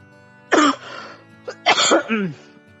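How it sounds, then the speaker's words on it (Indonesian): A man coughs and clears his throat in two close, loud bursts, the second a longer rasping fit with a short catch between. "Sorry aku agak sering batuk ini"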